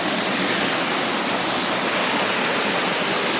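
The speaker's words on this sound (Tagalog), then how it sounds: "Yung sinasabi nilang Paraiso Falls." The Aparaiso Tublihon Falls waterfall roars as a dense, steady wash of rushing water, close and loud throughout with no voices.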